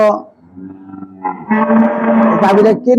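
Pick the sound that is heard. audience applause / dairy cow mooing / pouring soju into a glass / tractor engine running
dairy cow mooing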